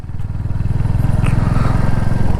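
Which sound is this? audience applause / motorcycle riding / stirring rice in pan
motorcycle riding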